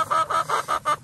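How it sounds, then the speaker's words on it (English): A bird clucks in a quick run of about five or six rhythmic, close, moderately loud clucks with no talking over them. "even the bird's giving me an amen"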